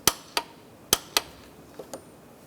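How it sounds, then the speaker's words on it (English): Sharp metallic clicks from a torque wrench setting the oil drain plug on a 2005-2010 Chevy Cobalt to 18 foot-pounds, six quick close ticks in two loose clusters, alone without talk. "Then I'm going to torque this to 18 foot-pounds."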